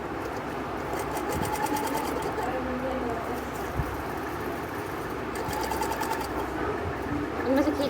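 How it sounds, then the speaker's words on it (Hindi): A sewing machine stitches dori piping onto a blouse in a class, running with a steady close whir and rapid needle clatter. Faint bird cooing sounds in the background. "अब ये जो सिलाई मैंने पहले लगाई थी, इसी सिलाई के ऊपर आपको सिलाई लगानी है।"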